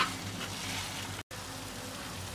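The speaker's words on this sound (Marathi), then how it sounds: "हे चिकन आता ग्रेव्हीमध्ये छान प्रकारे मिक्स करून घ्यायचे आहे." Chicken stirred into gravy in a pan for crispy chicken chilli gives a steady, close sizzling frying hiss throughout, with a brief break midway and no talking.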